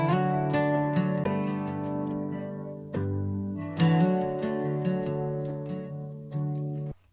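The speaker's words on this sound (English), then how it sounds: "if you listen very carefully, you can hear that warbly organ sound in the background" Sustained, slightly wavering organ chords with a warbly quality play steadily beneath a busy AI-generated song mix, swelling with each new chord.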